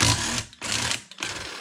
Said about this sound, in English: We're going to see if this cute little impact right here has enough power to break these loose.